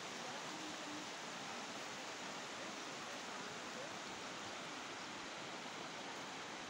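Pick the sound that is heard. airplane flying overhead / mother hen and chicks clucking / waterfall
waterfall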